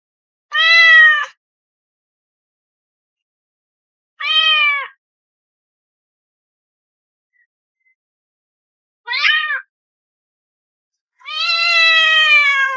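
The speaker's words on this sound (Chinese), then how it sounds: "这是哪来的小橘猫？" A small orange cat meows four times, clear and close, with long silent gaps between calls; the last meow is drawn out.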